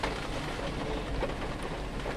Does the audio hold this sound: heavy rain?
yes